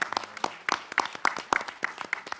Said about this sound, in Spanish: Bueno, nos aplaudimos.